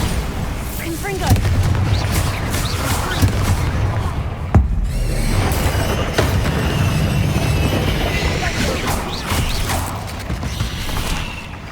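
Spell blasts from Confringo and Bombarda in Hogwarts Legacy ring out as a dense run of booms and crackling impacts, loud and continuous with creaking debris, and shouted incantations over the top.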